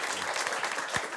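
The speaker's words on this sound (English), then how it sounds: "That deserves an applause, doesn't it?" Studio audience at a political talk show clapping, a brief, even burst of applause from a small crowd.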